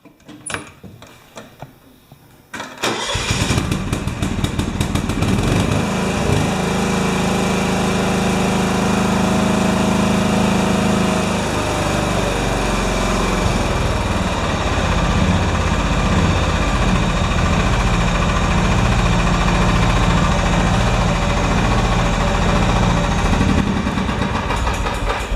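A small John Deere 180 lawn tractor engine with a freshly adjusted exhaust valve cranks over and catches after a few quiet seconds, then settles into a loud, steady idle that runs on alone.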